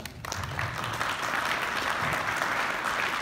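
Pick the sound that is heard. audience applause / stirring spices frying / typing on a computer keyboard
audience applause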